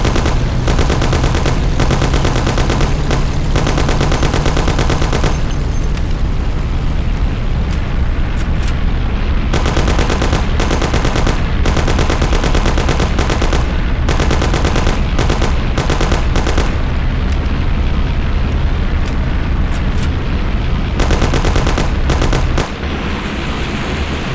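Heavy gunfire in the gangster game Mafia: The City of Lost Heaven, sustained machine-gun bursts and shots hammering almost continuously for the full length, very loud and close over a dense roaring backdrop.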